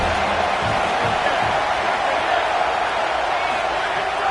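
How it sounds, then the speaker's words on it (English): A loud home crowd roaring at a football game, a dense steady wall of cheering heard up close with a commentator's voice faintly underneath. "how nice is it to have the home crowd going absolutely bananas"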